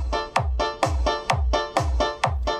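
Music with a punchy repeating beat played through the mid-range channel of an amplifier connected to an equalizer, its thumping pulses recurring about twice per second, steady and fairly loud.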